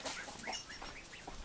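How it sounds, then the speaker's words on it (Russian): Young geese kept in shade under an apricot tree on a farm, a quick series of soft high peeping calls repeating every fraction of a second, faint and close, with no talk. "Вот покажу вам гусей."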